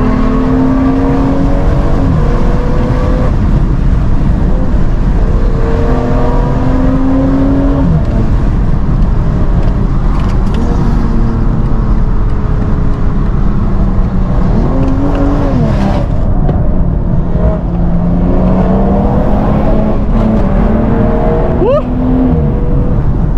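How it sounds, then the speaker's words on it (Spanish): Rally car engine during a road race, droning loud and continuous as the driver eases off the accelerator, with pitch rising and falling through gear changes and the steady roar of the car at speed. "Yo ahí voy soltando el acelerador."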